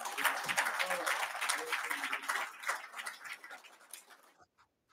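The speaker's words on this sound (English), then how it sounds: "please give him a warm round of applause as he steps out" Audience applause at a public health event in Africa, a steady patter of clapping that thins out and dies away to silence near the end.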